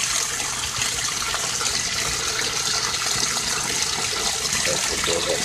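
Water flushes out of a barrel aquaponics tank in a continuous, loud rushing gush that holds steady throughout.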